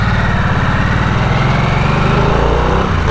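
A 2022 Harley-Davidson Nightster, restricted A2 version, runs steadily at 1800 rpm with a loud, close, continuous throbbing engine note that stays even throughout, with no talking.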